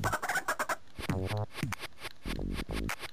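Chickens in the retro video game ToeJam & Earl cluck and squawk in quick repeated bursts, loud and close, with brief gaps between calls and no talking over them.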